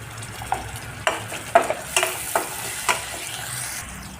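Finely chopped tomato and cut green chillies sizzle in hot oil in a pan, a bright continuous frying hiss broken by several sharp spatula scrapes and taps as the mixture is stirred.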